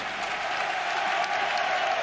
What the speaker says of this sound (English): Getting a great ovation from the Stuttgart crowd